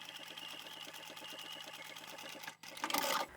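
A sewing machine back stitches a lined pouch in a fast, regular mechanical patter, running steadily and then breaking off into a brief pause before a louder burst of handling noise.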